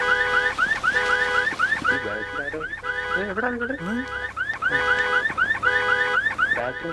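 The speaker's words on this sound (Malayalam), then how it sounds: "വളരെ നാച്ചുറൽ ആയിരുന്നു കേട്ടോ ആ അലാറം." A car alarm sounds a steady, repeating warbling electronic siren throughout, loud and close, with people talking over it in the middle.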